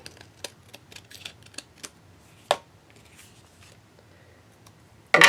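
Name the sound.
cutting a card panel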